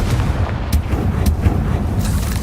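A Confringo fire spell bursting in Hogwarts Legacy, a loud rumbling blast with a few sharp cracks over a continuous roar, near and heavy.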